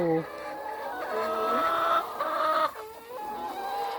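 A chicken clucks in a series of short, tonal calls, close and clear, near a fish pond in rural Thailand, with a voice faintly in the background.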